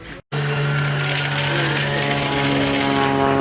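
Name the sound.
airplanes flying overhead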